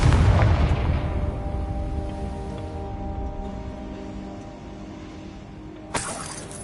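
A Confringo spell explodes in a Harry Potter video game with a loud, deep boom that rumbles away over several seconds, followed by a short sharp crack near the end.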